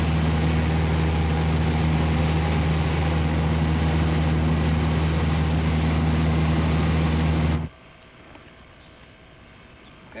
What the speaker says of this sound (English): As you can tell now by the engine noise, we're airborne.